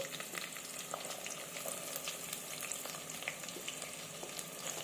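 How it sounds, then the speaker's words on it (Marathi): Onion fries with whole spices in oil for a prawn rice dish, giving a dense, steady crackling sizzle throughout, close and even, with faint stirring clicks scattered over it. "आणि हा कांदा तांबूस रंगावर येईपर्यंत आपण परतून घेणार आहोत"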